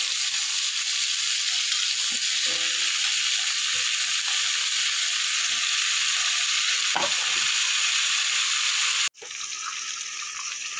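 Small whole pointed gourds (potol) sizzle in hot oil in a pan, a continuous crackling hiss with occasional pops, briefly cut off before the frying resumes at a slightly lower level.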